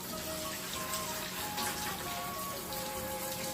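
Warm shower water pours steadily onto Rusty the dog in a bath, a constant close splashing hiss with light patter, and no voices.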